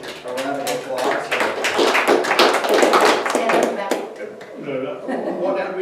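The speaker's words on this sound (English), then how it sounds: "So give him a round of applause." An audience at a school board meeting breaks into sustained applause for a county alumnus, dense clapping swelling and then tapering, with some voices and chuckles mixed in.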